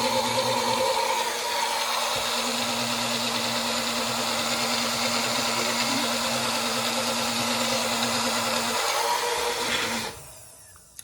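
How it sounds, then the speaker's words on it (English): A countertop blender whirs continuously while blending salad dressing, a loud, even motor drone that runs for about ten seconds before cutting off abruptly. "And then you blend. For a moment, so hang tight."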